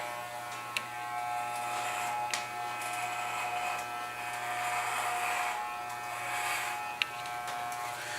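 An electric shaver runs steadily during a head shave, a faint constant buzz with a few small clicks and slight changes in pitch as it moves, heard alone.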